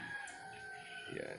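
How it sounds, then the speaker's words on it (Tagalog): A rooster crows in the morning near coconut palms at a Philippine eco-resort, a single drawn-out call over steady outdoor background noise, moderately near. "Yan ang huni ng ibon sa umaga."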